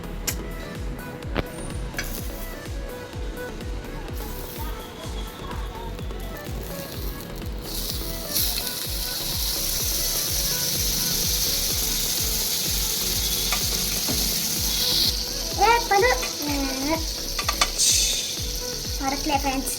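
Butter melting and sizzling in a pan as the first step of a homemade paneer pizza, a steady close frying hiss with occasional clinks of a utensil, growing fuller partway through.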